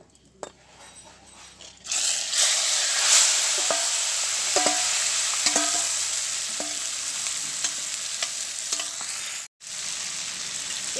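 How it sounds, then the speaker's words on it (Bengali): Marinated chicken frying in oil over caramelised red sugar, bursting into a loud, continuous sizzle after a quiet start, with repeated scraping and clicking from stirring and a brief break near the end. "এবার আমি মাংসটাকে কষাতে থাকবো।"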